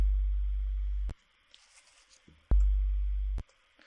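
Two sustained low synth bass notes from a square-wave patch in Massive, softened toward a sine tone, each holding about a second and then cutting off cleanly, with quiet gaps between them.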